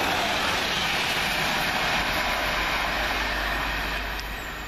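Passenger train 1D93, London King's Cross to Bradford Interchange, roars past at close range with a loud, continuous broadband rush and rumble, easing slightly toward the end.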